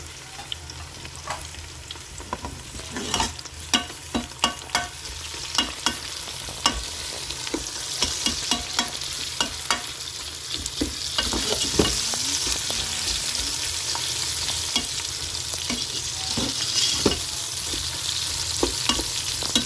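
Onions and tomatoes sizzle steadily in a pan for a chicken korma, with repeated stirring scrapes and taps of a spoon. The frying hiss grows fuller and louder toward the end, close by, with no talking.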